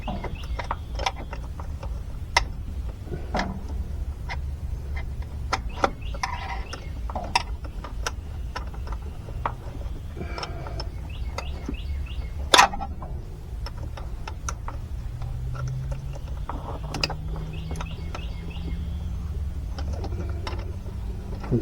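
Close, repeated small metallic clicks and ticks come from a wrench working a carburetor nut in a cramped engine bay on a 1977 Chevy Luv, scattered irregularly over steady low background noise.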